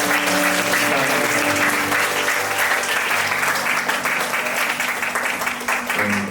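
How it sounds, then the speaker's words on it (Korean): Sustained applause from a church camp congregation at a worship gathering, many hands clapping steadily and loudly for several seconds over a faint musical hum. "하나님께 영광의 박수 올리겠습니다."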